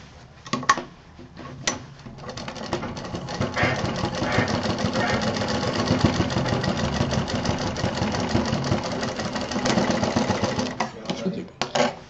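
Sewing machine stitching a college bag, a steady mechanical whirr running for most of the stretch after a few short starts, close and fairly loud, ending with brief stops and taps.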